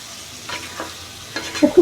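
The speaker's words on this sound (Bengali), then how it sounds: "আবারও আমি খুব ভালো করে নেড়ে দেব। আরও কিছুক্ষণ আমি এটা কষিয়ে নেব।" Chicken sausage curry with soy sauce is stirred in a pan, a few soft scraping strokes over a gentle sizzle, growing louder toward the end of the short moment.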